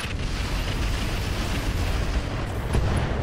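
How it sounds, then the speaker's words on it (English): Rockets fired and bursting in Roguetech, a continuous rumbling barrage of launches and explosions at steady loudness with a sharper hit near the end. "Let's save the mortar ammo and just fire the rockets."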